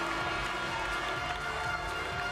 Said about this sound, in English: Polish fans with something to cheer about